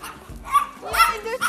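A dog barks twice on a Hungarian village street, short sharp yaps standing out over close conversation.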